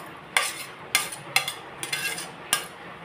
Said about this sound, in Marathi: शेवग्याच्या शेंगा घालून झाल्या की हा बारीक चिरलेला कांदा आणि 1 टोमॅटो